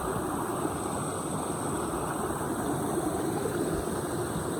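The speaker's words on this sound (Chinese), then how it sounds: "现在来到这里又有一个瀑布，这个池子有点大哦。" A rainy-season waterfall pours into a large pool along a small stream. The rushing water makes a loud, unbroken roar close by, with no voices over it.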